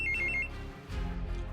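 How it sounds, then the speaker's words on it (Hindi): A phone rings with a quick trilling tone for under half a second and then cuts off, faint over a low background hum. "विकी का फोन बजा"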